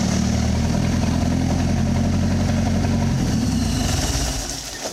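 An 80s Mercruiser 140-horsepower four-cylinder drop-in boat engine runs close by, a loud, steady rumbling idle with a busy mechanical clatter that eases slightly near the end.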